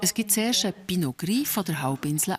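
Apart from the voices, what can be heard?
No distinct noise like a dog, phone or traffic.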